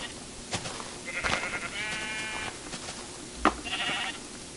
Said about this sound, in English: Ooh, sheep. Give to me your wool.